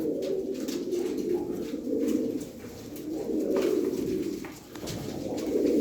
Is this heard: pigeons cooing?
yes